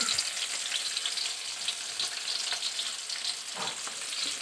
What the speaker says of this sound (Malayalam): ആദ്യം ഞാനിവിടെ കുറച്ച് ഉള്ളി വറുത്തെടുക്കുവാണ്